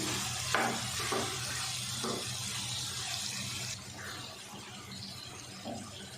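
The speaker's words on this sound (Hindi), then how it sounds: "अच्छे से मिक्स कर लेते हैं मसाले के साथ।" Mixed winter vegetables with spices and chopped green chilies are stirred in a pan over a soft, steady sizzle. A few spoon scrapes and knocks come through at low, close volume, with no talking.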